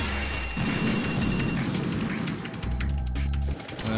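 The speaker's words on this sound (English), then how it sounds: "You got incoming missiles again." Incoming missiles in Metal Gear Solid 2 burst in a steady, dense barrage of loud booms and crashing impacts, nearly continuous for several seconds with a brief lull near the end.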